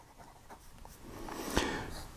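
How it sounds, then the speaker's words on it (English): A soft fountain pen nib glides across paper in faint, close scratching strokes over a quiet room hiss, rising into one slightly louder stroke near the end. "what's nice about this nib is it glides across the paper"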